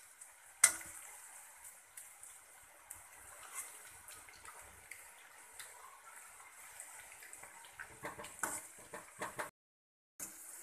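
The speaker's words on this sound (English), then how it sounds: "You can see I am frying it like this." Potato and carrot pieces fry in hot oil, giving a faint, steady crackle with scattered pops and sharper spatters, then a short break before it picks up again.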